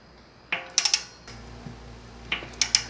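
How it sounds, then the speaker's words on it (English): Torque wrench set to 4 newton metres tightening the small bolts of a Shimano XT RT86 six-bolt bicycle disc rotor in a crisscross pattern: a few sharp metallic clicks and ratcheting ticks, close and fairly quiet, with no talking. "here comes the torque wrench"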